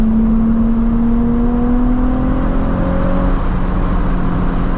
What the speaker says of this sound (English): Yeah, this engine really pulls pretty strong.